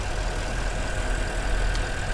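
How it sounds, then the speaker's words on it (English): A 2013 Porsche Panamera GTS idles steadily, a smooth, quiet, even engine hum with a low rumble and no revving. "Idle is really smooth, engine's really quiet, sounds great."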